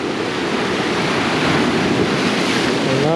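Ocean waves breaking on the rocky coast at Bodega Bay, California, a loud, dense, continuous roar of surf with wind across the microphone.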